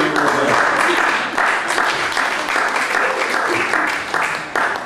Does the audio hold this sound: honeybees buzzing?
no